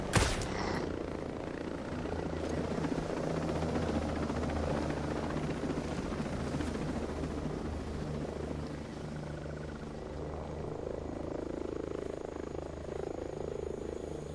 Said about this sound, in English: I've been sitting here looking for this helicopter.